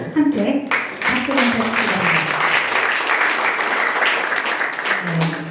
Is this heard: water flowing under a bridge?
no